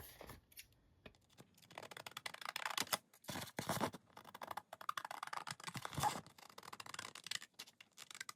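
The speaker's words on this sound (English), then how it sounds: "I'm going to grab my scissors and just trim off this excess on this edge" Scissors snipping excess paper off the edge of a handmade grungy junk-journal envelope, a run of close, quiet crisp cuts and rustles in irregular bursts with no talking.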